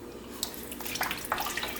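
Plain water is poured into a pot of Caribbean cow heel soup, making a steady close splashing and gurgling with light bright spatters.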